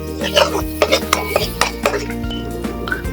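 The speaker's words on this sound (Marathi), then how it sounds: "चवीनुसार मीठ हे सगळं टाकून मसाल्यांसोबत हे वाटण आपण परतून घ्यायचं" Ground masala paste with salt sautéed in a pan, a spoon scraping and tapping against the metal in quick uneven strokes over a low background hum, loud and close with no talking.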